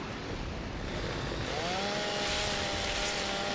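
A Gears of War 2 chainsaw grinds through an alien heart in a video game, giving a loud, steady, continuous buzzing roar throughout with no talking.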